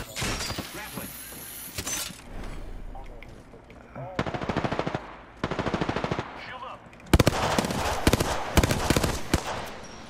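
Bursts of automatic gunfire from the video game Apex Legends, loud rapid volleys in several separate runs with short pauses between, mixed with game effects and occasional talk underneath.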